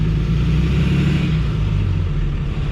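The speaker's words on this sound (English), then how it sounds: "put the foot to the floor and drive forward with my parking brake" A truck engine revs hard in a steady, loud low rumble while the vehicle strains forward against its fully applied parking brake, with no talking.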